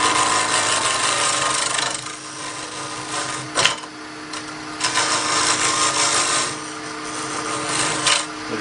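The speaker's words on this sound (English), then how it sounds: "So we're going to take a parting tool," Parting tool cutting a shoulder into a wooden coffee scoop on a lathe: a steady, loud scraping whir of wood turning, rising and falling as the tool bites, with a brief sharper knock midway.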